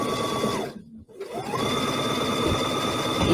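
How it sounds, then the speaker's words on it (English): A sewing machine stitches with the needle set in the center position, running steadily, pausing briefly mid-seam, then carrying on with a continuous whirring hum close to the mic. "Needle in the center position and sewing right here."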